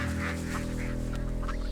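Ducks honking and quacking loudly and continuously in a rough, crowded chorus while being caught, with a steady hum running underneath throughout.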